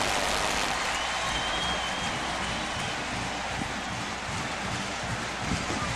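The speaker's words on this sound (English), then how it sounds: "Tennessee fans still cheering, still in here." Tennessee college football fans in a packed stadium during a 1996 game against UNLV, a loud, continuous wash of crowd roar and applause filling the whole stretch with no clear voice on top.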